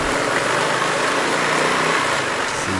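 Motorcycle engine roaring steadily and loud on a solo touring ride in East Java, a continuous broadband drone with a faint rise near the end and no talking.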